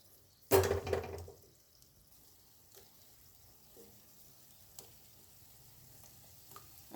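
Kabuli chana pakoras drop into oil in a kadai with a sudden loud burst of sizzling that fades within a second, followed by quiet bubbling and a few soft clinks.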